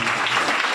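Hall audience applauding to welcome a professor to the stage, a dense steady wash of clapping heard close and loud throughout.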